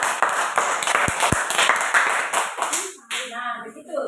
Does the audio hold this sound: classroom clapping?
yes